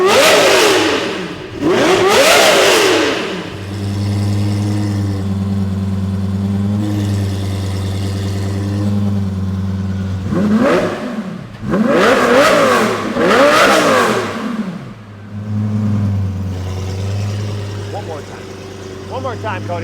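A Lamborghini Gallardo with a custom exhaust and its valves open rips through several sharp, loud revs, the engine settling into a steady idle between each burst, with people talking in between.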